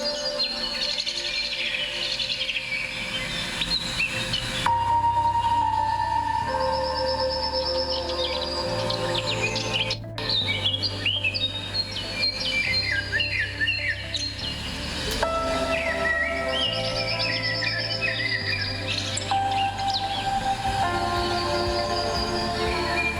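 Parrots chirp and call from a movie played through a Huawei P40 Lite phone speaker, with varied bright tweets over a soft, low musical backdrop, moderately quiet, with no speech.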